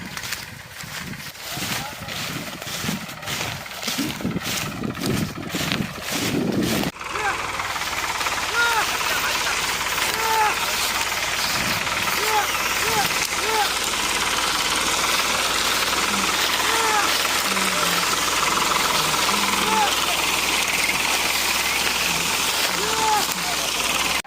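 A tractor engine hauling a heavily loaded cart out rumbles steadily and loudly, starting with rough irregular knocking bursts before settling into a continuous close drone, with people talking over it.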